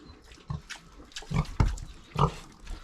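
Pigs, sows waiting to farrow on a farm, grunting close by in a few short low bursts spaced through the clip, with no talk.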